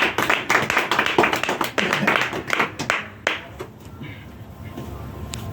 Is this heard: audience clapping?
yes